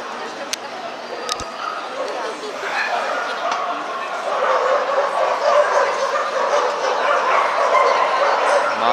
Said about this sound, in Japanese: また吠え始めた。 なんかうるさいな。